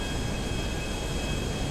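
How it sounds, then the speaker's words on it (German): Passenger airplane engine in GTA 5, a steady broadband roar with a faint high whine, constant and fairly loud throughout the short stretch, no talk. "Ich hab die Passagiermaschine"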